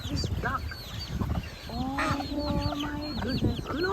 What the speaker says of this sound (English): Oh my God, look at this duck.